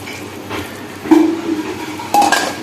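A metal lid clanks down onto a pot of simmering meat curry, two clear clinks ringing over a low bubbling background.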